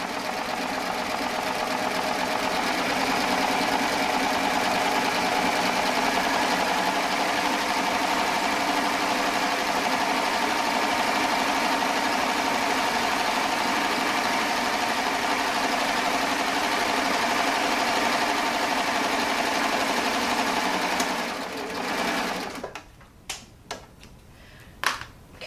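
A Baby Lock Triumph serger stitches along fabric edges for a holiday banner, running in a loud steady rapid mechanical whir for about twenty seconds before stopping, followed by a few faint clicks and handling sounds.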